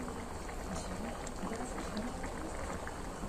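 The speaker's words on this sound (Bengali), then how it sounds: "এবার এটাকে ঢাকা দিয়ে ফুটে ওঠা পর্যন্ত অপেক্ষা করব" Water boiling in a covered pot for fish curry gives a steady, close bubbling simmer that runs evenly throughout, with no other sounds standing out.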